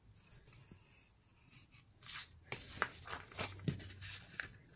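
Scissors snip through thin glossy magazine paper in a run of short, crisp cuts, close and fairly quiet, with faint rustling of the sheet between snips.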